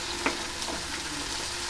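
Vada frying in hot palm oil produces a dense, continuous, close-up sizzle with a few small pops and crackles near the start, steady and loud with no voices.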